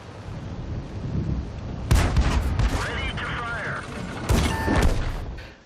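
Tank cannon fire in a World War II tank video game, including American M4 and German Panzer tanks. Two heavy booming shots ring out a few seconds apart over a rumbling engine and mechanical clatter, with a voice audible between them.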